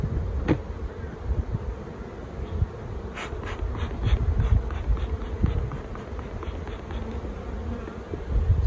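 Honey bees buzzing in an opened, dwindled queenless triple-decker hive, a steady close drone with occasional sharper buzzes and light handling knocks.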